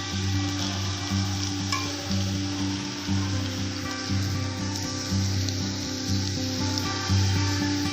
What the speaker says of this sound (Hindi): और मिक्स करेंगे अच्छे तरीके से